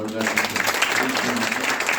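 A hall audience at a Swami Vivekananda birth anniversary and National Youth Day tribute bursts into applause. The sustained clapping is moderately loud, with a voice faintly mixed in.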